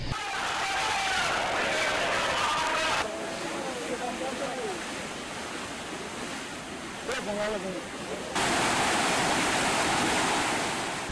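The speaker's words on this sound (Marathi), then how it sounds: "पोलीस संरक्षणामध्ये या ठिकाणी आता पाणी सोडण्यात आलेलं आहे" Water released from a dam rushes along a riverbed, a broad steady roar heard outdoors with wind buffeting the microphone, while someone talks over it for much of the time.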